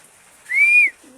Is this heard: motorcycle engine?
no